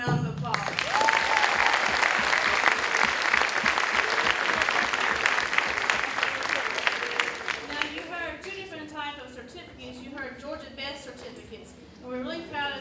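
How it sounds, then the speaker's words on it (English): Audience applause at a high school honors night, dense and steady for about eight seconds before thinning into scattered claps as a voice begins speaking over the fading end. "So please give them a round of applause"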